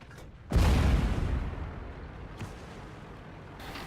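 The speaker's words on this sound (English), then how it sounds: "can see artillery raging in" Artillery shells crash down in World of Tanks around a slow TOG II* tank, one big close boom that decays into a rumbling tail, followed by fainter distant thuds.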